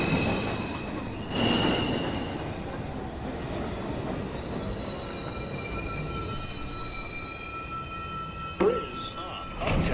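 A New York City 2 subway train approaching Beverly Road station, rumbling in with squealing wheels and clattering over the rails, a short screech near the end, with an automated announcement voice speaking over it.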